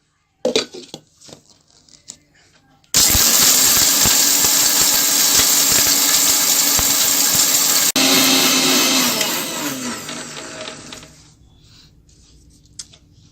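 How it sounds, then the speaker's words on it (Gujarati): An electric grinder pulverizes dry-roasted biryani spices with turmeric, starting abruptly into a loud, steady whir that lasts about eight seconds before winding down, preceded and followed by faint handling clinks. "આને પાછું ગ્રાઇન્ડ કરશું"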